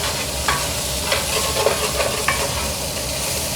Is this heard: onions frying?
yes